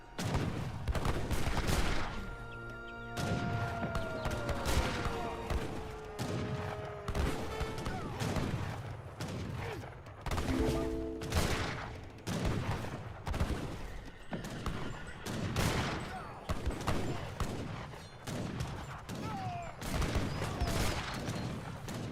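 Rapid, continuous volleys of musket fire from skirmisher units in the real-time strategy game Age of Empires 3, dense crackling shots layered with battle clatter and a few horn-like tones, steady throughout.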